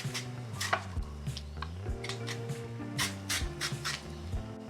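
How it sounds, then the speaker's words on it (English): A knife slicing a peeled carrot into thin slices on a cutting board, a run of crisp, evenly paced close chops and taps, fairly quiet, with no talking. "And I'm just gonna cut some slices that are just a couple of millimeters."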